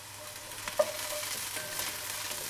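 Spices fry softly in a pan for a crab curry, a quiet continuous sizzle with a brief clink of a utensil near the start and gentle stirring, close but low in level, no talking.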